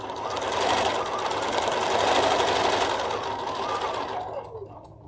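A domestic sewing machine stitching a simple free-motion stipple to tack down quilt appliques gives a fast, steady, close mechanical whir that holds for about four seconds, then slows and cuts out near the end.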